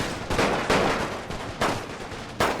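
Gunfire in the World War I strategy game The Great War, four heavy booming shots at irregular intervals, each trailing into a long rumbling decay, no voices.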